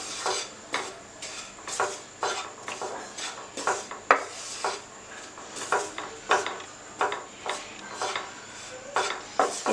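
Rice bran powder dry-roasting in a pan over low heat, a utensil scraping and stirring in steady rhythmic strokes, close and moderately loud, with no talking.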